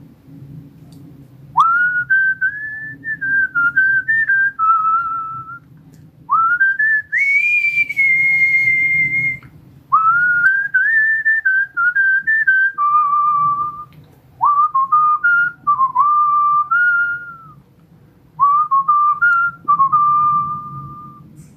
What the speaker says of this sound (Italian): una serie in versione molto breve di qualche brano famoso in versione fischiettata